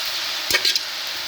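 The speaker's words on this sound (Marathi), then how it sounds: "आता आपण त्याच्यामध्ये हे बारीक केलेले हिरवे गरे घालून मस्तपैकी ढवळून घेणार आहोत" Chopped green jackfruit stirred into a hot mustard-cumin tempering in a pan, a soft continuous sizzle with a few brief scraping stirs near the middle, close and fairly quiet.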